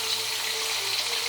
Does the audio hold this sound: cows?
no